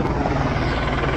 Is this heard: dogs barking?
no